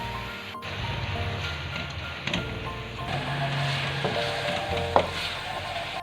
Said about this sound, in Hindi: 10 मिनट तक हम इसको अच्छी तरह भूनेंगे ताकि इसका कलर चेंज हो जाए।